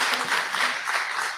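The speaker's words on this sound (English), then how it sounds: "I think that deserves a round of applause." A brief burst of dense audience applause at a music industry masterclass in a studio, continuous clapping from a crowd heard close and fairly loud.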